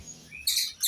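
Bright, high chirps from bulbuls at a bird market stall in two quick bursts, close by and fairly loud, with no talking.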